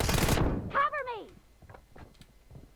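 A single sharp gunshot sounds in a mobile shooter video game at the start, followed by a short voice line and faint game sounds.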